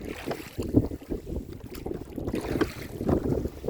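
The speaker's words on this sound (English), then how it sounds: "we're just going to have to deal with the headwind" Headwind buffeting a small boat on Lake Sonoma, heard as close, gusty rumbling wind noise across the microphone with uneven surges and splashy low thumps.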